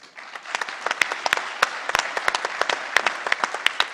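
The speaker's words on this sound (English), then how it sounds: "Just give her a round of applause." Applause from an audience honoring the Ombudsman of the California Air Resources Board chair's office, a dense run of close, sharp handclaps with a few louder individual claps standing out, steady throughout.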